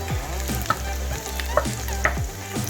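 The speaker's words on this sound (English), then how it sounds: "Start by frying the garlic" Garlic sizzles steadily as it fries in oil in a pan while a utensil scrapes and stirs, producing a few soft clicks and knocks up close.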